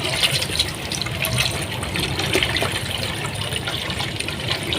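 Water poured for the first change of rinsing water, a steady, loud gushing stream filling a container close by, continuous throughout with no talking.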